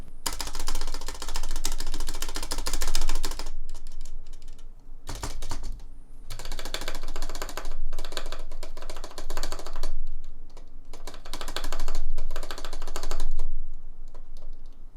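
Rapid typing on a mechanical keyboard with rattling stabilizers: dense bursts of clacking keystrokes, loud and close, broken by brief pauses, with no voices.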